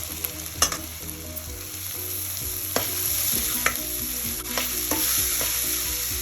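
Beans, carrot and potato sauté in a pan for biryani, giving a continuous close sizzle broken by several sharp clicks and scrapes of a spoon stirring against the metal.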